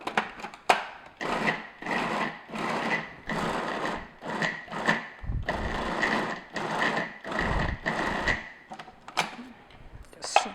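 A food processor blends cream cheese for brownies in loud whirring bursts, a rough grinding motor noise stopping and starting in short pulses of a second or so, close up.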